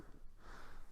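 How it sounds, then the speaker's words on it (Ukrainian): A single short, breathy snort close to the listener, a quick burst of air through the nose. "Так, це наш пес, якого ми привезли з собою з Харкова."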